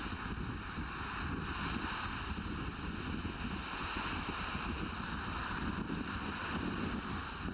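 Rough ocean surf on a Venezuelan coast, a continuous loud wash of breaking waves with wind noise on the microphone, no speech.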